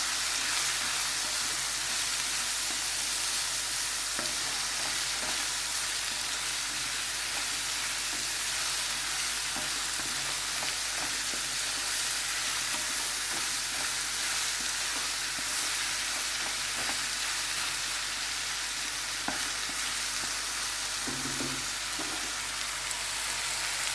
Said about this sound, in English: Now I will stir it again.